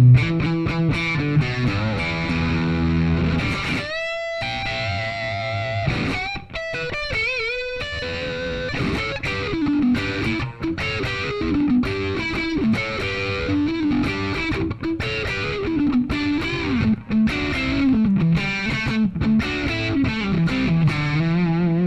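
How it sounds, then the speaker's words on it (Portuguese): Electric guitar played through a Jackman 2 tube amplifier with heavy distortion and a fairly dark tone, loud and continuous riffing with sustained chords and a brief gap near the start, no voices. "A distorção aqui tá chegando legal pra caramba."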